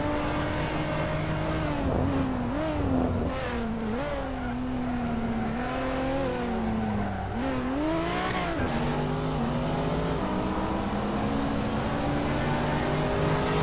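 Cars race in the video game Hot Wheels Unleashed, on the Gridlock stage of Hot Wheels Universe Zero, with a steady engine drone and rising and falling revs that run the whole time and stay loud and close.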